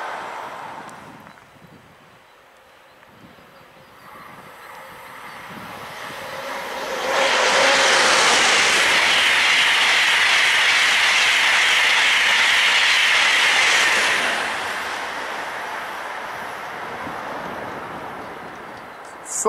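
An ICE 1 high-speed train heading toward Munich rushes past near Althengenberg, building into a loud broadband roar that holds for several seconds, then eases into a steady fading rumble.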